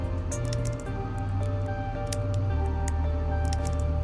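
Thick liquid drips and squishes from a peanut bag in the Scarlet Hollow video game, a wet, repeated squelching over a steady droning musical background.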